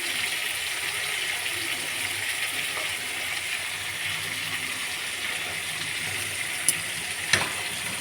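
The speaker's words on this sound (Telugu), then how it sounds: "ఇది ఆయిల్లో బాగా ఫ్రై కావాలి." Eggplant pieces, washed in salt water and dusted with a pinch of turmeric, fry in hot oil with a soft, steady sizzle, interrupted by a couple of faint clicks near the end.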